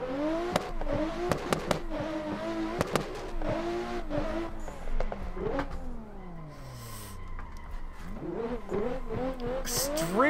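Rally car in a snowy alpine rally stage video game, engine revving hard to redline with repeated rising and falling pitch sweeps and popping bursts, loud and close, with someone talking over it.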